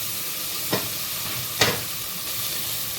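Green chillies and onions frying in a pan until golden for Tamil tomato rice, a steady soft sizzle with two brief stirring scrapes of the spoon, close and fairly quiet.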